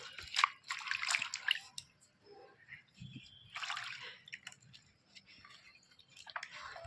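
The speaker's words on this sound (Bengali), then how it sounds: "এখন পান পাতাটা করলে কিছুটা জল নিয়ে কিন্তু আমি একটু ভালো করে ধুয়ে নেব" Betel leaves rinsed in water by hand, with soft splashes, drips and sloshing in short bursts, quiet and close.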